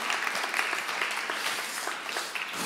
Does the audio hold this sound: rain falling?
no